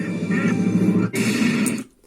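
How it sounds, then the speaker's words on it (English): A loud, heavily compressed smash sound effect in the style of Jacksepticeye, crashing across about two seconds with a brief dip midway before cutting off abruptly. "consistently loud sort of smash, and it's very compressed in comparison to a normal"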